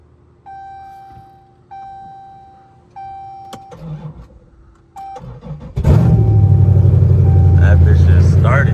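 A Dodge 300 Scat Pack that has had an engine swap sounds repeated chimes and clicks, then cranks and starts. The engine settles into a loud, close idle, with voices heard nearby.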